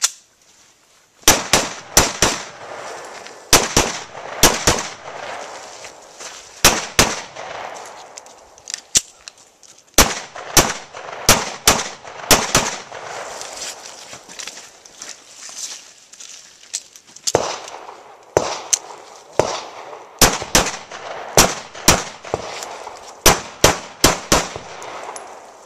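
Repeated gunshots crack out during a timed shooting drill on a range, with loud sharp reports fired in rapid bursts and short pauses between strings.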